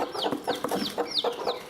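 A hen squawks repeatedly at an egg, giving a quick series of loud, close, rising-and-falling clucks and squawks in an uneven rhythm. No voices.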